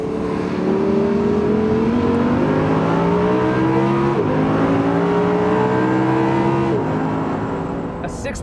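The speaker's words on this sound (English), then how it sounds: "getting it up there is a wonderful thing to do because it sounds spectacular" A 2014 Audi R8 V10 Plus engine revving high toward its 8,000 RPM peak, loud and close, its wailing pitch climbing in steps across several gear pulls with brief dips between shifts.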